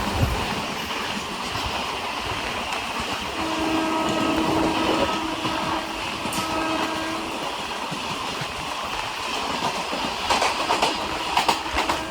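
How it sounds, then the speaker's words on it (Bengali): The New Delhi–Sealdah Rajdhani Express, train 12314, rolls past on an Indian railway line with a steady rumble and clickety-clack of wheels, a faint squeal and brief tonal whine midway, loud and close, no talk. "সামনে থেকে আসছে নিউ দিল্লি শিয়ালদা রাজধানী এক্সপ্রেস 12314 রাজধানী এক্সপ্রেস"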